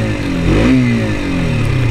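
A black 2022 KTM RC 125 motorcycle engine revs briefly, its pitch rising and then settling back, loud and close over a steady engine rumble, alone and without talk.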